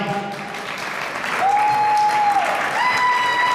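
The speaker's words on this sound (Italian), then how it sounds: "facciamo un bel applauso, il fan club, vai!" Audience applause at an outdoor winter festival with an orchestra, a dense, continuous clapping with a sustained tonal note running through the middle.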